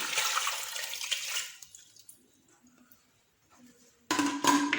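Water poured onto sugar in a pot for orange jam: a close, splashing pour that fades into near silence with faint clinks, then a sharp burst of pouring or stirring at the end.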